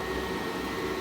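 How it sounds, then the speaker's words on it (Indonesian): A computer rig with sixteen high-speed cooling fans runs loudly, a steady close whooshing roar with a constant hum and no breaks. "Ini suara rig kita"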